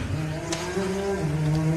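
Race cars circling a track during a Loveday 400 Saturday event, with a steady, fairly close engine drone holding several pitched tones that shift as the cars pass.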